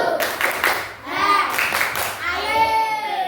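A classroom group joins in a rhythmic Indonesian tepuk semangat clapping chant, quick clap patterns mixed with voices calling out, close and fairly loud.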